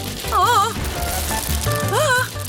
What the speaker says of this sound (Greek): Αυτό είναι μάλλον μια βροχή από μπάλες σοκολάτας.